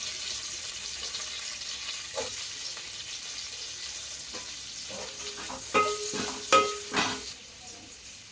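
Onion and curry leaves frying in a couple of tablespoons of oil in a pan, a steady soft sizzle with a few louder clatters of stirring toward the end; no talking.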